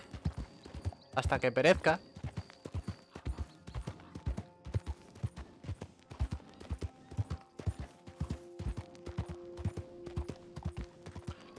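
Horse hooves clip-clop at a steady walking rhythm in Red Dead Redemption RP near Valentine, with a brief whinny early on, while people talk over the hoofbeats.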